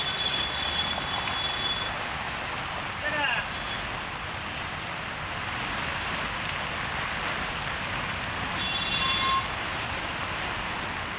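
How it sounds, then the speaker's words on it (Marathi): Heavy monsoon rain pours down during a traffic jam on the Mumbai–Nashik highway, a dense, constant wash of noise with faint electronic beeps and voices in the background. "सध्या संपूर्ण राज्यात मुसळधार पाऊस कोसळतोय"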